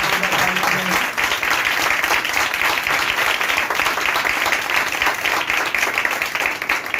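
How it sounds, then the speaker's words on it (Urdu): A church congregation applauds a couple with dense, steady clapping that stays loud and continuous throughout, a brief voice just audible near the start. "تو آئے اس جوڑے کے لیے زوردار تالیاں بجائیں."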